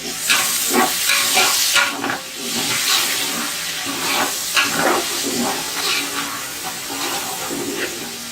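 Tomatoes hit hot oil in a pan while cooking beef biryani, giving a loud, continuous sizzle and hiss with small bursts of spattering throughout.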